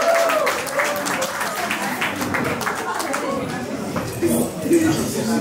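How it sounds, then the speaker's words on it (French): Wedding guests applaud the groom in a lively burst of clapping that mixes with crowd chatter and a speaking voice, then fades slightly near the end. "Guillaume, mesdames et messieurs, on applaudit le marié,"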